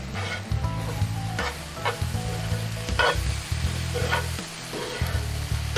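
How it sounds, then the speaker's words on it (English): A pan of ham steak and cabbage medley sizzles loudly and steadily up close, with a spoon scraping through it in repeated strokes and a low hum running underneath. "All right, we're going to stir this one more time."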